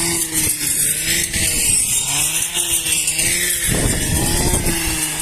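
A steady, loud T-25 tractor engine drone with rising and falling pitch, running continuously as the tractor drives along towing a trailer.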